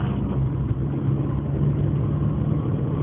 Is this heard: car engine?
yes